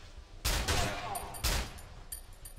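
In the Cry of Fear video game, gunfire strikes the player in two separate heavy bursts about a second apart. Each burst is loud and close, and a quieter battle backdrop continues between them.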